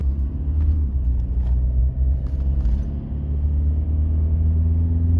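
A car cruises along the NH68 highway after midnight, its engine and road rumble forming a loud, steady drone with slight surges, close and continuous with no talking.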